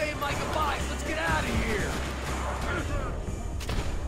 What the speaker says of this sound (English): I have to shoot him again.